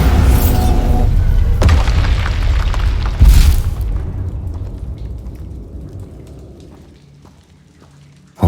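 The Bombarda spell detonating in Hogwarts Legacy gives a loud, deep boom with a rumbling blast, then a second burst that trails into a long fading rumble and debris patter, ending in quiet.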